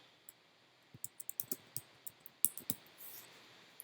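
Someone types a domain name on a computer keyboard in a quiet room, a short burst of light, uneven key clicks, close by and with no voices.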